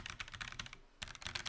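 Brisk typing on a Roccat Vulcan II gaming keyboard, quick clicky keystrokes in a close, steady run with a brief pause partway before the tapping resumes.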